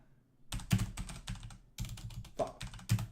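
Close typing on a computer keyboard, irregular bursts of clacking keystrokes with short pauses between them, fairly quiet and with no talking.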